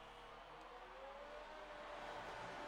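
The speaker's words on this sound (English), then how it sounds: "you can hear that engine revving as he just tries to take it around the S's" In a racing video game set at the Brazilian GP in the rain, a race car engine revs faintly through a corner, its pitch sweeping gradually upward under a steady distant drone, with no talking.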